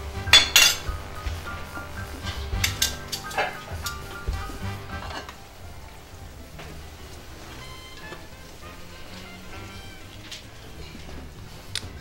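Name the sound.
plating pasta and shrimp, dishes and cutlery clinking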